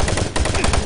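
A rapid, loud burst of gunfire in Doom 3, with several close shots fired in quick succession and no pauses.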